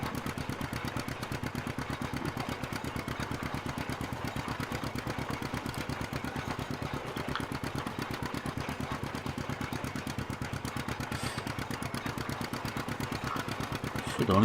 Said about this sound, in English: I think it's a 2-cylinder, very slow revving diesel.